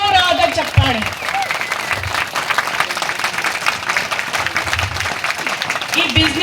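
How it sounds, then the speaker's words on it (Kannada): Loud, sustained audience applause fills the hall, a dense steady wash of clapping from a crowd at a business success gathering, with bursts of voices and cheers rising within it. "ಜೋರಾದ ಚಪ್ಪಾಳೆ"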